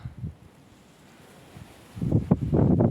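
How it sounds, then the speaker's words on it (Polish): Wind buffets the microphone in low rumbling gusts, faint at first, then growing louder and more sustained toward the end. "Przepraszam za wiatr, ale nic nie poradzę na to."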